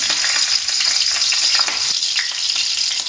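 Chopped green chilies fry in hot oil, producing a loud, dense, continuous hiss and crackle at close range with a few light stirring taps, no voices.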